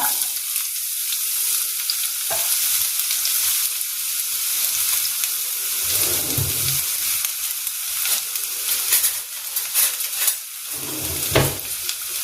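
Chopped vegetables for avial are stirred and fried in a teaspoon of coconut oil, making a steady sizzle with occasional scraping and stirring bumps, close and moderately loud, with no talking.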